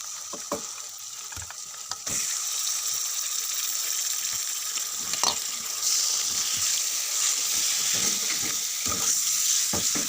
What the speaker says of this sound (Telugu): ఇప్పుడు చికెన్ వేసుకుందాం.